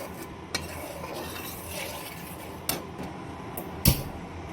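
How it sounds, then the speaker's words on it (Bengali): Yogurt being stirred into spices in a pan with the flame off for a Bengali paneer masala: a soft, steady scraping of a spoon against metal, with a few sharper clinks of the utensil striking the pan. "সমস্ত মশলার সঙ্গে খুব ভালোভাবে দইটা মিশিয়ে নেব"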